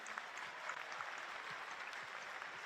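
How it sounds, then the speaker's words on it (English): Audience at a high school scholarship night applauds the school counselors, an even patter of clapping heard from some distance, soft and steady. "Let's give a round of applause to our counselors."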